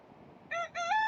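A rooster crows twice near a travelling herders' camp in rural woodland, a first short call followed by a longer one after a brief pause, loud and clear over quiet background.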